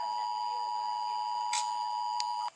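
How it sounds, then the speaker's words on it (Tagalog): An emergency broadcast system alert tone: a steady, loud electronic tone held throughout, with brief higher blips partway through, cutting off abruptly at the end. "Emergency broadcast system."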